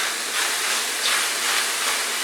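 Food frying in a pan on medium heat, giving a continuous bright sizzle and hiss that swells gently a few times, heard up close and alone.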